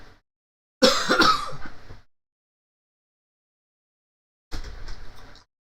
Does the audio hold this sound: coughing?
yes